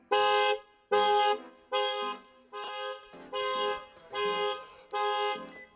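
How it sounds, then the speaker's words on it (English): A car alarm, set off while jump-starting a dead battery, blares as seven evenly spaced loud horn honks about every 0.8 seconds, steady and close with no talking. "Wow, it set off the car alarm."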